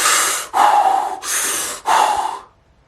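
A voice imitates deep, forceful breathing-exercise breaths done lying down: four loud, breathy rushes of air in a steady rhythm, each about half a second long, close up, with no other talk.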